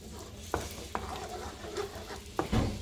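Ground paste stirred and sautéed in butter in a pan for butter paneer: soft sizzling, with a few sharp spatula scrapes and knocks against the pan, close by.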